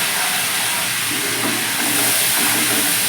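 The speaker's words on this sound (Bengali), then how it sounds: "এবার ভালো করে মশলাটাকে কষে নিলাম" Spices with turmeric and salt fry in a pan for chana dal, giving a loud, continuous hissing sizzle that stays close and steady throughout, with no voices over it.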